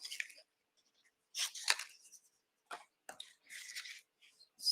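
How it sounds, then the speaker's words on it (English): Fussy cutting scissors snip through paper in a series of short, crisp, close cuts separated by quiet gaps, with no talk. "So that needs our fussy cutting scissors."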